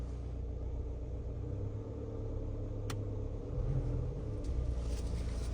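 A Mahindra XUV 300 drives along in a steady low engine rumble heard from inside the car, with a slight rise in loudness toward the end and no talk.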